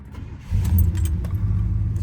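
A 1969 Pontiac GTO 400 V8 engine turns over and settles into a steady low idle, with a few faint metallic clinks near the start.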